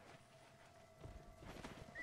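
Horse hooves clip-clop in the video game Red Dead Redemption, faint and quiet, a loose rhythm of muffled footfalls that grows slightly busier toward the end.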